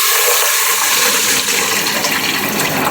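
Half a litre of water pours steadily into a pan for making kheer, a loud continuous rushing splash filling the whole three seconds.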